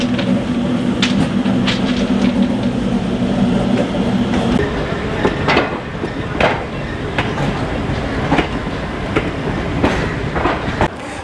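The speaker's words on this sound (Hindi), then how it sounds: "तो ये MEMU भी हमारे साथ गाज़ियाबाद पहुंच गई" A MEMU train arriving at Ghaziabad station, with a loud, continuous rumble of wheels, rhythmic clacking over rail joints and a steady hum in the first few seconds.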